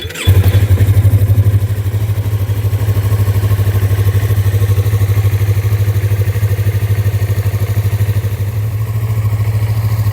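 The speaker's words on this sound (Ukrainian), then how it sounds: "Двигун працює без жодних нарікань." A Yamaha YZF-R3 sport motorcycle engine idles steadily and loudly up close, a deep rumbling pulse that holds even throughout with no voices.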